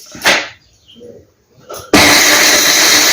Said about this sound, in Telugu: ఈలోపు మనం మిక్సీ పట్టుకుందాం